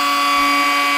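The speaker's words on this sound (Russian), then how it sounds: "включаем болгарку" A Heimerdinger LB201 mini angle grinder whines at a steady high pitch, running continuously at full speed of about 17,200 rpm, close and loud.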